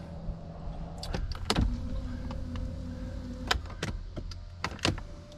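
A 2008 Lexus IS-F power seat adjusts, its electric motor giving a steady low whir with a few sharp clicks and knocks from the seat mechanism, close and fairly quiet with nobody speaking.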